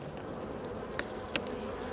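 Honeybees buzz in a low steady drone around an open hive box during an inspection, close and continuous, with a couple of faint brief clicks.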